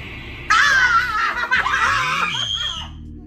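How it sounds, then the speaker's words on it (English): Several people scream and shriek loudly during a Smash Bros game, the burst rising suddenly and staying high for a couple of seconds, with laughter mixed in and the noise easing off toward the end. "you ain't supposed to be screaming like that"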